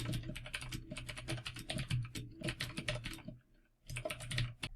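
Fingers type quickly on a computer keyboard, a dense run of crisp clicking keystrokes with a short pause before the tapping resumes, close and clear with no voices.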